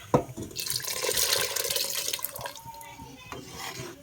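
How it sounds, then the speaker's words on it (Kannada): Water is poured into a sambar mixture in a pressure cooker, a close splashing, trickling pour that swells, then tapers into drips and small sloshes. "ಆವಾಗಲೇ ತೆಗೆದಿಟ್ಕೊಂಡಿರೋ ನೀರನ್ನ ಇದಕ್ಕೆ ಹಾಕ್ತಾ ಇದ್ದೀನಿ"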